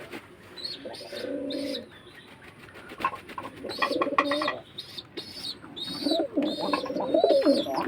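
Several young pigeons coo in low, throaty bursts, close by, as they bathe, mixed with occasional chirps and light fluttering.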